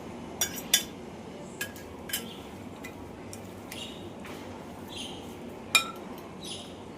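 Spoon stirring jaggery into a milk batter in a bowl, with a few sharp clinks against the rim spaced irregularly over a quiet, faint background.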